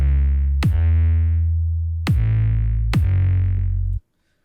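A heavy kick and sawtooth-based bass synth combo used in place of an 808: three deep, booming hits, each with a sharp click attack and a long sustained low tone, played alone before cutting off abruptly.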